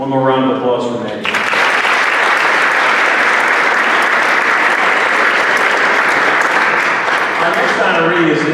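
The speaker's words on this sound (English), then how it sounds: "One more round of applause for Maggie." After a voice speaks briefly, a loud, sustained round of applause breaks out from the crowd at a hall of fame induction ceremony, honouring a swimmer named Maggie, with the clapping staying dense and even to the end.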